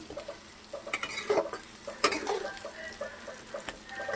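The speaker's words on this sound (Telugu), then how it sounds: "ఇవి ఒక 2 సెకండ్లు అవి కూడా కొంచెం వేగనివ్వండి" Green chillies frying in a hot pan for boti curry give a soft, steady sizzle, with stirring scrapes and a few light clinks of a spoon against the pan. No one speaks.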